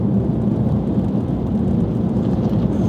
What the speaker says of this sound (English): Biggest thing we're fighting is rain.